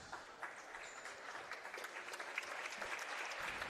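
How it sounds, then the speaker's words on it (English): Applause from a crowd in a high school gym during a volleyball match, a dense patter of clapping that builds slightly in volume and holds steady throughout. "Round of applause for her"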